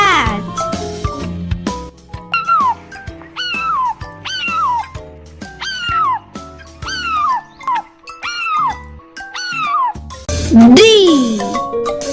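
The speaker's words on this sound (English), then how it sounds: "C for cat." A single cartoon-style cat meow, rising then falling, rings out near the end of a bright sung children's phonics melody.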